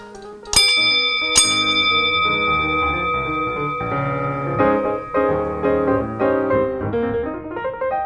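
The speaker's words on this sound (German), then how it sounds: "bitte drück den Gong" A gong in a wine cellar venue rings out twice with sharp, loud strikes, its bright metallic partials sustaining and slowly decaying while a dense, ringing overtone wash lingers throughout.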